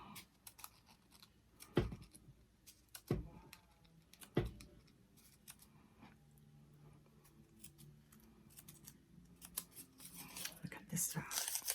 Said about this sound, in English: I'm going to cut these wonky ends off. And I'm going to give it just a snip like I did before.